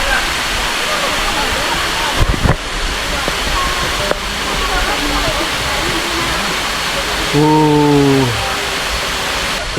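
Bantakay Falls, a jungle waterfall in Atimonan, Quezon, roars steadily and loudly at close range, a dense continuous rush with brief thumps and a short tonal call near the end.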